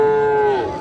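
A single loud, close moo from a cow at a market trading Friesian and crossbred calves, a steady tonal call that tails off slightly toward the end.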